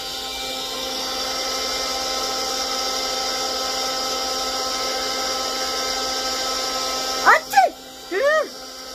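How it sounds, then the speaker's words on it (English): A handheld vacuum cleaner runs close by with a steady, even motor whine throughout. A few brief squeaky vocal sounds break in near the end. "A handheld vacuum,"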